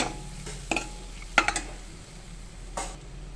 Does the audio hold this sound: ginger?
yes